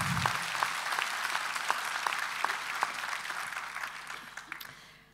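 Sustained applause from a large audience at a library congress closing session, steady dense clapping throughout with a few sharper claps standing out, fading slightly toward the end.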